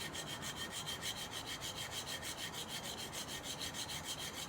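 Scissors are sharpened on a whetstone with a steady back-and-forth scraping stroke, about four strokes per second, close and soft.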